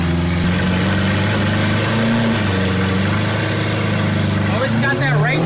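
A wrecked Lamborghini Aventador SV engine runs at a steady idle, a loud, close mechanical drone with a slight rise near the end, while a person talks over it.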